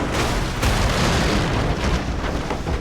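In the video game The Last of Us Part I, a loud, sustained blast of explosive rumble with dense low-end roar and crackling debris fills the whole moment without any voices.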